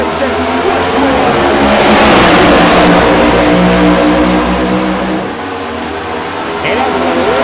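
A pack of race cars accelerates at the green flag at Kansas, engines droning and revving together in a loud, sustained roar; voices can be heard faintly under the engine noise.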